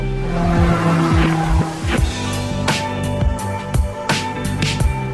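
A car in an action film screeches with squealing, skidding tires as it is forced to a sudden stop, loud and close, with short repeated tire chirps over engine noise.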